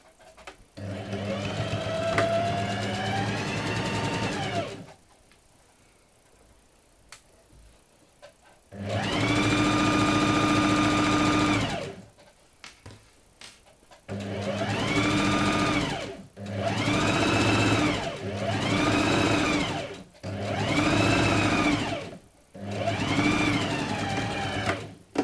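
Sewing machine stitching fabric for a bread bag, running in loud sustained bursts of steady mechanical whirring separated by short pauses, close up and alone.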